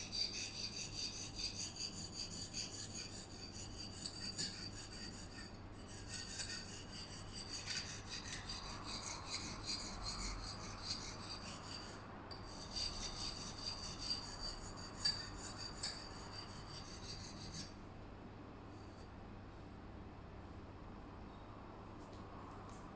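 A knife blade is sharpened and smoothed with steady, repeated filing and rubbing strokes, a close, continuous rasping scrape that keeps a regular back-and-forth rhythm for over twenty seconds before easing off near the end.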